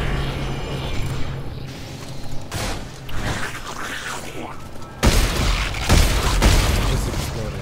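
An explosion in the video game Dead Space 3, a loud sudden boom with broadband crackling debris near the end, following rumbling game machinery and effects.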